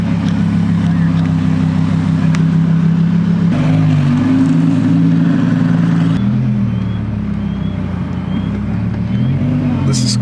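Audi R8 supercar engine backing out and pulling away, a loud close steady drone with shifting pitch as it moves off and changes gear, heard from inside with people talking over it.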